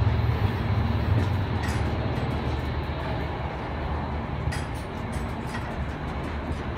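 Interior of a moving passenger train, nearly empty, a continuous low rumbling roar of wheels and carriage noise with faint rattles and a few brief knocks, no talk.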